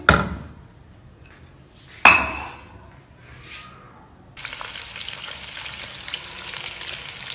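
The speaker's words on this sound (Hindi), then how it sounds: "थोड़ा सा इसमें डाल के इसको हम हल्का सा फ्राई करेंगे।" Boiled mutton dropped into a hot pan for a mutton karahi, with a couple of sharp clanks of utensil on metal followed by a steady, close sizzle of frying that fills the second half.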